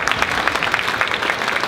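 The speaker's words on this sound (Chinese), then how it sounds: "大家给他一个掌声好吗？" An audience at a product exhibition opening press conference clapping, a brisk, dense patter of many hands, fairly loud and continuous from start to finish.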